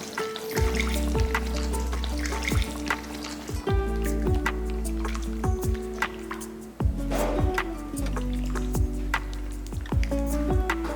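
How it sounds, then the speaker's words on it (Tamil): Water poured into a Chettinad-style roasted and ground chicken curry in a pan, giving close, scattered drips and small splashes over a steady low background hum. "அதில் ஒரு 100 ml அளவுக்கு தண்ணி ஊற்றிக்கலாம்."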